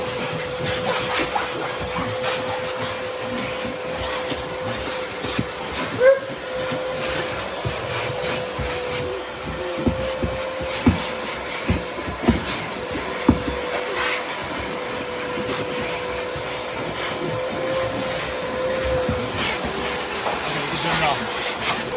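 A vacuum cleaner runs steadily inside an Acura Integra, its constant whining drone broken by scattered knocks and bumps as the nozzle moves around the car's interior.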